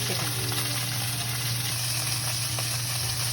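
Chicken pieces frying skin down give a steady sizzle that crackles continuously at close range, a dense hiss with a low hum beneath and no talking.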